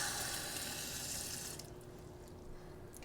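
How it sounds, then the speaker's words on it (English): Water pours from a tap into a cup in a loud, steady rush for about a second and a half, then stops, leaving quiet drips. "Fill it up, 1 cup of water."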